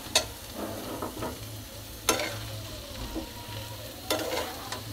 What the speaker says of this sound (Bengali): আদা রসুন সরিষা বাটার সাথে আমরা একত্রে জলপাইটাকে আগে একটু নাড়াচাড়া দিয়ে নিব